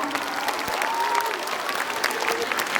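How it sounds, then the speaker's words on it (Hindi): Audience applause at a Republic Day function honoring young talents, a steady dense patter of many hands held at an even level for the whole stretch, with faint voices and a tonal murmur underneath. "इनके लिए मैं चाहूंगा कि जोरदार तालियां बजे"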